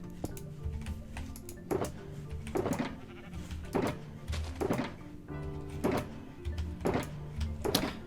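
Sheep bleating in the Minecraft video game, a series of about eight separate wavering bleats spaced roughly a second apart, near and clear with no talk over them.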